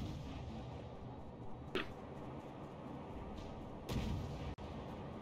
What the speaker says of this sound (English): Jono's guns appear to be rather ineffective compared to Call-Out's